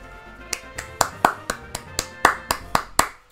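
Steady hand clapping, about ten or eleven sharp, close claps in an even rhythm roughly four per second, with faint background sound beneath.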